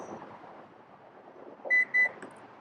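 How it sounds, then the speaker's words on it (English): Two short electronic beeps from a Lexus UX door button sound in quick succession over faint background noise. "listen for 4 beeps, keep holding, listen for 2 more"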